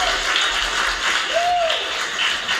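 Audience applause at a comedy show, a steady wash of clapping from a crowd filling the whole moment at moderate loudness.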